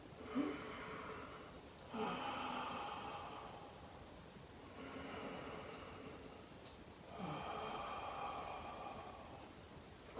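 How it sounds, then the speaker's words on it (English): Slow, deep breaths drawn during a vinyasa yoga flow, three long inhales and exhales spaced a few seconds apart, close and soft with an audible rush of air and no talking. "Nice deep breaths."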